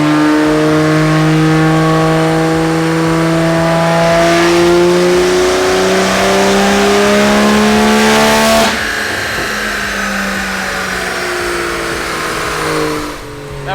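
A 1JZ-engined Toyota Soarer roars on a dyno, its engine note climbing steadily through the revs in loud rising harmonics, then lifting off with a brief burst of noise and winding down at lower revs.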